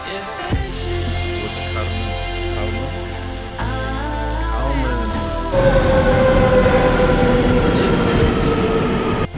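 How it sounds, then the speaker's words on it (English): A train in Spain, heading toward Córdoba, rumbles and squeals along the rails, metallic tones shifting pitch, then a louder rushing roar as it picks up speed. "Next, we boarded a train and headed off towards Cordoba."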